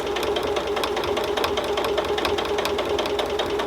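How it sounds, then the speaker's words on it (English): A sewing machine stitches around a Christmas stocking in a fast, steady mechanical chatter, close and continuous, with no talking. "So we're just going to sew around this."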